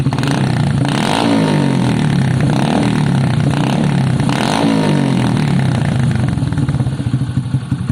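A Lexmoto motorcycle engine with an aftermarket exhaust runs up close with a rough, throbbing idle, occasionally swelling slightly in revs, with some mechanical clatter.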